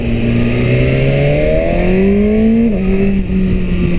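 A 2017 BMW S1000RR sport bike engine, loud and close, rising steadily in pitch as the clutch lets out late, with one brief dip partway through, then continuing to climb as the revs build.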